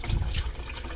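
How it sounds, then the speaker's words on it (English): Water being poured into a container gives a close, brief gurgling splash lasting about a second. "I'm going to pour this into there because I'm not going to really use that water."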